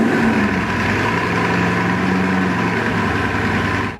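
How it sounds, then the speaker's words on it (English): A Bugatti Chiron engine rumbles at idle, loud and steady, a deep continuous drone that holds for several seconds before cutting off abruptly. "When you fire it up, the engine rumbles, it's loud, it generates an incredible amount of heat."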